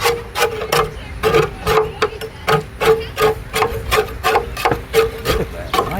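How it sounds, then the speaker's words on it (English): Steel scraper rasping old gasket residue off the engine of a 1974 Dodge D100 pickup, a steady series of close, loud scrapes in quick repeated strokes with no talk. "I got a little brush and this scraper. I want to try to scrape what we can out of here."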